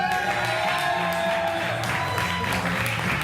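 Audience applause for comedian Dylan White at a stand-up show, a dense, sustained wash of clapping and some cheering that fills the whole stretch without letting up.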